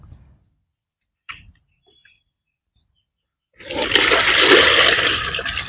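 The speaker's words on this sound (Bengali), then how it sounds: "এরকম হাত দিয়ে আস্তে করে জল ঢেলে দেবেন।" Water poured slowly by hand onto the soil of a potted lotus plant, a sustained close splashing and gushing that starts after a few seconds of near silence with a couple of faint knocks.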